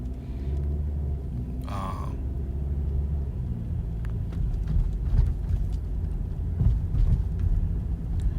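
A car drives along, heard from inside the cabin as a steady low engine and road rumble with occasional faint bumps and rattles, and a brief voice cuts in near the start.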